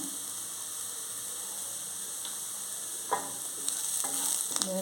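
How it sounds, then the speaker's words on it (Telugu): Onions sizzle and fry steadily in a small amount of oil in a pan as salt goes in, a continuous close hiss with a few brief clinks and stirring scrapes near the end. "ఆనియన్స్ వేయించుకుంటున్నాను ఆనియన్స్ వేగడానికి కొంచెం మనం సాల్ట్ వేసుకుందాం"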